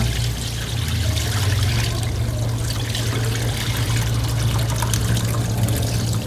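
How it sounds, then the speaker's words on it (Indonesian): Water is poured steadily for a rinse, making a continuous close splashing rush with no breaks. "Nah, ini kita kasih air lagi bang."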